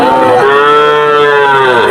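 A calf at the Chuknagar cattle market gives one long, loud, close moo that lasts the whole moment, with no talking around it.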